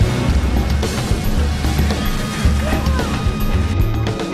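A boat with a Yamaha outboard is pulled underwater and capsizes, giving continuous loud churning water, splashing and engine rumble with thumping knocks throughout, close by and without voices.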